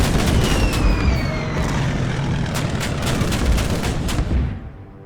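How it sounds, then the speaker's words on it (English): Rapid anti-aircraft fire and booming artillery in the naval strategy game Order of Battle, a dense continuous barrage of gunfire with booms at a steady loud level. "A lot of anti-aircraft fire at the Dauntless"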